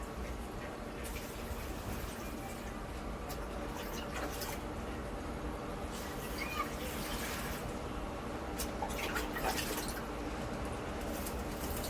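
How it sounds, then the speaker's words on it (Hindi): Potted plants being watered with water on a sunny day, a steady wash of pouring and trickling close by with occasional soft splashes and drips throughout. "तो पानी दे दिया है सभी पौधों में।"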